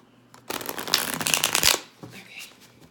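Close, crisp shuffling of a heavy tarot deck with thick cards, one sustained flurry of rapid card flutter lasting about a second, then quieter handling.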